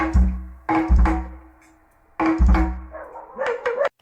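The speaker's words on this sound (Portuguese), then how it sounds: "Os cachorros sempre atrapalham quando a gente vai filmar." Several dogs barking outdoors near a car sound system setup, sharp loud barks in two bursts separated by a pause, with a final cluster of quicker yaps.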